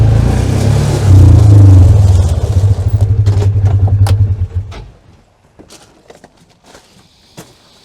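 A pickup truck engine rumbles loudly up close and revs briefly before cutting off, leaving scattered clicks and footsteps in a quiet space.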